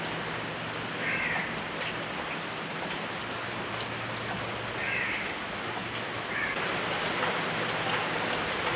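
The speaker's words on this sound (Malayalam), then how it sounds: "നല്ല മഴ" Heavy rain pours down steadily, a dense, even hiss that fills the whole stretch with no voices.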